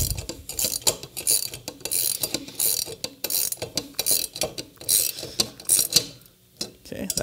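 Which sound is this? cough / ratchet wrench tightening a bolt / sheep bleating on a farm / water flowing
ratchet wrench tightening a bolt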